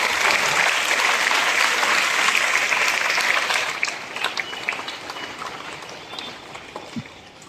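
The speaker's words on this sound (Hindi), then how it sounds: "जोरदार तालियों से इनका स्वागत करें।" Audience applause welcoming an honoree at a school event on child marriage awareness, a loud dense clapping that holds steady for several seconds, then thins and fades toward the end.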